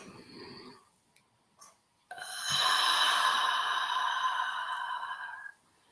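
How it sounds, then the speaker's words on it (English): A deep breath drawn during a guided relaxation session, heard as a long, steady breathy rush that holds for a few seconds close to the microphone, then stops abruptly, with faint soft sounds before it. "take one more deep breath with me."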